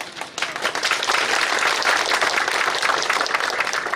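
An audience at a political speech in Tripura breaks into sustained applause, many hands clapping loudly together after a brief pause, a dense steady roar of clapping.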